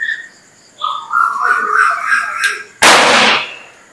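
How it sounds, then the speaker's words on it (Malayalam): A firecracker set off on a Vishu festival morning bursts with one sharp, loud bang that decays over about half a second, after a stretch of voice-like tonal sounds. "പടക്കത്തോടുകൂടി നമ്മൾ തുടക്കം കുറിക്കുകയാണ്."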